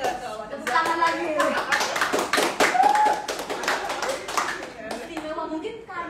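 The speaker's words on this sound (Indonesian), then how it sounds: "Tepuk tangan lagi." Audience clapping at a live cast event for the film Adagium, a burst of dense hand claps that swells in the middle and fades, with people talking over and after it.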